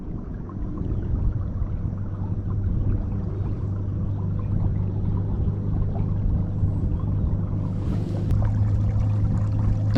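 An electric trolling motor on a kayak runs at full throttle on 12 volts, giving a steady low drone and churning water noise that holds constant throughout, close by and with no voices.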